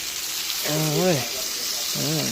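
Potatoes fry in a pan with a continuous broadband sizzle that runs steadily throughout, while a person talks briefly over it.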